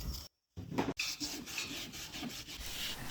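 Old weather stripping and built-up gunk being scraped off a 1978 Hollidaire vintage travel trailer, with a short burst of rubbing, a brief silence, then steady close scraping and rasping strokes.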